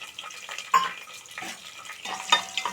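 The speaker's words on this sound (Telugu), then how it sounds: "నేను ఆయిల్ హీట్ చేసుకొని అందులో కొంచెం జీలకర్ర ఆవాలు వేసాను." Cumin and mustard seeds fry in hot oil, a quiet crackling sizzle with a few sharp pops and light stirring clinks, no speech.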